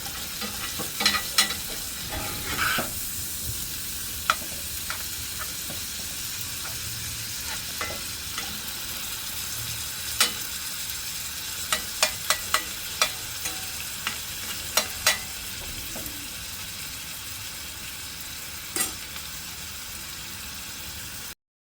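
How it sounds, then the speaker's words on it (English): Ground beef sizzles steadily in a frying pan, with scattered scraping clicks of a utensil stirring it; no talking. "the ground beef is all browned, we're going to push it all to the top side of the frying pan"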